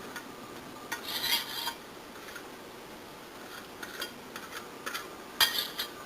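Granola is stirred in a baking pan with a sandwich knife, giving a few short bursts of scraping and light clinking separated by quiet pauses, close and fairly soft.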